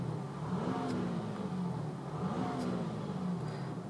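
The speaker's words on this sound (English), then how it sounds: "if I just rev the car" A 3.0 V6 TDI diesel engine in an Audi A5 Quattro is revved twice, each time rising and falling in pitch, heard faintly at a distance over a steady background hum.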